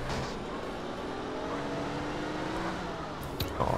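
Continuous engine drone of a fast car driving in the video game GTA San Andreas, steady and fairly loud throughout with a brief sharper rise near the end, no talking.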